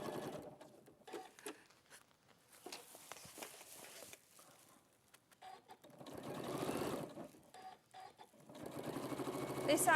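A sewing machine stitches fabric in bursts, its rapid mechanical chatter starting and stopping at moderate loudness between quiet pauses, with people talking intermittently over and between the runs.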